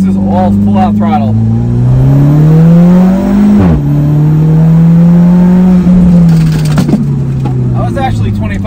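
Alfa Romeo 4C at full throttle in dynamic mode, its engine climbing steadily in pitch through one gear, dropping on a shift, then rising again. The exhaust note is loud and close throughout.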